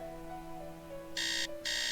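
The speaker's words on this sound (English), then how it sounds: "I hate this alarm" A video game alarm rings in two loud, bright electronic bursts, each about a third of a second long with a short gap between, over a quiet background hum.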